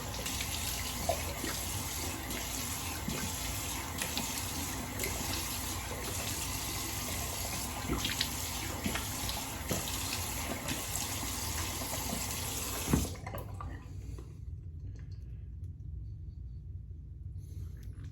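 Tap water running into a sink while a razor is rinsed, a steady close hiss and rumble that continues evenly, then cuts off abruptly near the end, leaving quiet.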